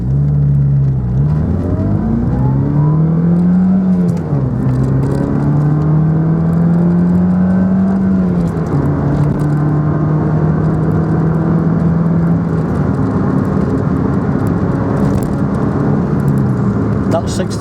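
A 2000 Ford Puma 1.7 16v Zetec-S with 123 bhp accelerates hard on an open road, its engine note rising through the gears with brief dips at each shift, loud and steady from inside the cabin.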